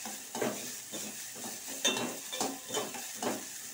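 Vegetables sautéing in a pan for millet soup, with a steady soft sizzle and repeated scraping stirs of a spoon against the pan, close by and without voices.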